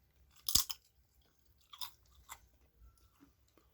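A toasted Mr. Tortilla low carb tortilla crunched close up, one sharp loud bite followed by several softer crisp chews in a quiet room.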